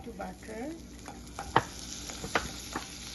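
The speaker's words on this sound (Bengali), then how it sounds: "এখন সেই চিকেনটা ভেজে নিব।" Chicken fries in butter and oil in a wok with a quiet, steady sizzle, broken by a few sharp clinks and scrapes of a utensil stirring nearby.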